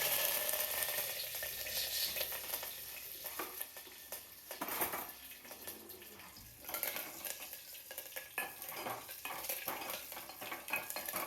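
Mustard seeds, garlic and curry leaves sizzle in hot oil while being tempered for tomato sambar, a continuous crackling fry with occasional clinks and stirs of a spoon in the pan, close and fairly loud, no talking.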